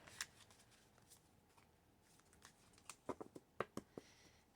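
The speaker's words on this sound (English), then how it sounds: "Alright, so little shuffle" Tarot cards are shuffled by hand, a faint papery riffle of soft flutters that turns into a quick cluster of crisp snaps and taps near the end, with no talk.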